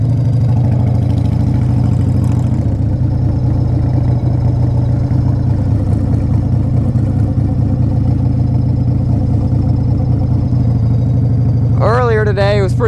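A carbureted 1994 Harley Davidson Fat Boy engine runs close by with a loud, steady, low rumbling lope throughout, and a brief voice cuts in near the end.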